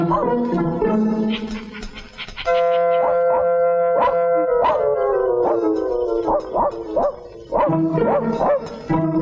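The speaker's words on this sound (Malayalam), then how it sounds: "പട്ടി കിടന്ന് ബഹളം വെക്കണ കണ്ട" A dog at night barks in sharp bursts, then breaks into long drawn-out howls between the barks, loud and close, with no talk over it.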